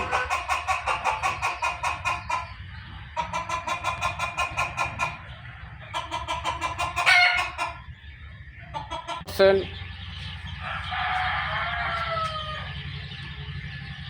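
Native desi hens and roosters on a small Bangladeshi poultry farm, clucking in repeated rhythmic bursts close by, with a sharp squawk and one brief crow-like call among the flock.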